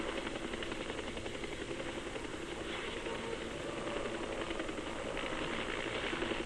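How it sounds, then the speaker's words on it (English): An RAAF helicopter's steady rotor thrum and engine roar fill the whole stretch in 1968 Vietnam, loud and continuous with a dense, even texture. "RAAF helicopters are flown in to airlift the valuable find."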